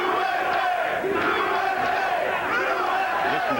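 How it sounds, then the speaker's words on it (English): Crowd at a 1994 USA vs Cuba amateur boxing bout roaring and chanting in support of a fighter, a loud, dense, sustained wall of voices filling the arena throughout. "Listen to this crowd."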